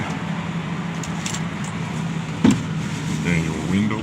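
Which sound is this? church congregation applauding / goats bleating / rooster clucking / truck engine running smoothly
truck engine running smoothly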